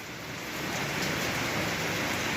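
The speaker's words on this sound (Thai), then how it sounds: "บรรยากาศฝนตกนะครับ บรรยากาศพายุเข้านะครับ" Steady rain pours down during a storm, a dense, even hiss of drops on surfaces with no talking, constant and fairly close throughout the short stretch.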